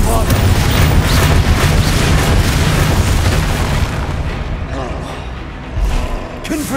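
Heavy booming blasts from the Bombarda explosion spell in Hogwarts Legacy, loud and rumbling at first and then fading, with a voice talking over them.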